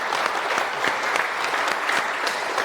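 Steady, dense applause from an audience at a two-wheeler book launch event fills the whole stretch, with many hands clapping loudly and evenly and no voices on top.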